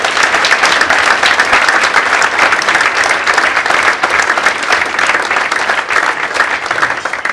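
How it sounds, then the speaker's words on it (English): Loud, sustained applause from an audience at a football club's Player of the Year awards ceremony, dense clapping filling the room steadily for several seconds. "Round of applause for the youth team here."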